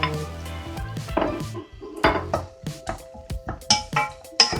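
Ginger and garlic go into a pan of browned onion while cooking chicken tinola: a series of sharp, close clacks and scrapes of a utensil on the pan in an irregular rhythm, with a faint sizzle underneath.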